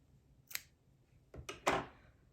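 Scissors snip crochet yarn at a finished granny square, three quick quiet cuts close by, one alone and then two in fast succession, in a calm room.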